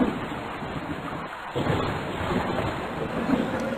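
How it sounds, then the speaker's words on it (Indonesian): Steady, dense rainfall hisses throughout while deep rolling thunder rumbles underneath, loud and close, with a brief lull before the downpour swells again. "Lalu, turunlah hujan tersebut sampai ke bumi."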